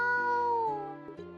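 A black cat gives a single drawn-out meow that slides downward in pitch, close and clear against a quiet background.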